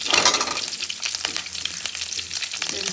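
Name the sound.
frying in a pan for paneer butter masala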